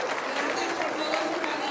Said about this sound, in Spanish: Entonces vamos a brindarle un gran aplauso, padre